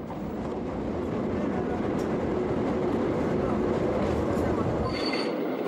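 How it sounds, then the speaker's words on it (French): Diesel locomotive of the Lézard Rouge train in Tunisia running on rails, a steady dense rumble and rolling roar that holds evenly at close range for the whole stretch. "Alors, va pour la locomotive diesel."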